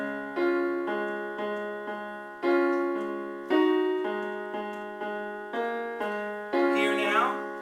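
The left-hand part of Chopin's Raindrop Prelude on piano, a steady series of repeated chords struck about once a second, each decaying before the next, played solo and close with no talking over it.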